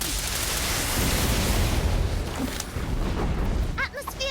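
The Confringo explosion spell in the game Harry Potter: Magic Awakened makes a loud, rumbling blast with a roaring burst. It is followed by brief sharp chimes near the end.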